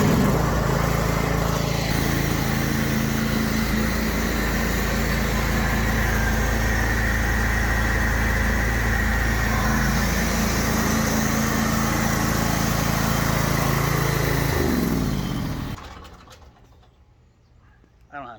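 A pressure washer engine runs loud and close with a steady, unbroken drone while cleaning walkways, then cuts out near the end, leaving near-silence.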